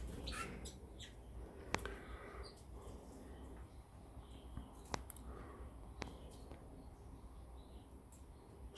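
A redpoll and a cock goldfinch call inside a breeding cage, giving faint scattered chirps and short tweets over a low steady background hum.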